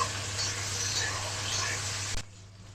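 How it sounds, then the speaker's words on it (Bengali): Potatoes fry in a pan for a rui fish curry with onion stalks, giving a steady, close hiss and crackle that cuts off sharply near the end, leaving a quiet tail. "অল্প সময়ের জন্য ভেজে নেব"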